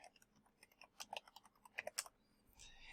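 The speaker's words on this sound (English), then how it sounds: "I'm just going to type help get event log." A PowerShell command is typed on a computer keyboard, with quick, irregular soft key clicks close up and quiet, a burst of faster taps in the middle and no talking.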